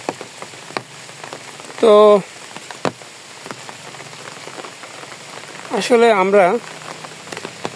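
Steady rain falls on a surface along a morning street, a soft continuous patter throughout, with two short bursts of nearby speech breaking over it.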